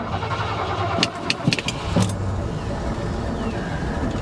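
A 1982 Ford F150 XL pickup, sitting since 2013 with a troubled fuel system, runs roughly at idle with a low uneven rumble, broken by a few sharp clunks and clicks near the start, while people talk nearby.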